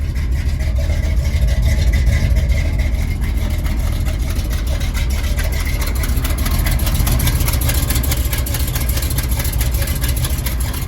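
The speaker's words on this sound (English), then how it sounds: "I think it's got an exhaust leak." Chevrolet C10 pickup engine idling with an exhaust leak, a loud steady low rumble with a fast ticking pulse running evenly throughout, no talk over it.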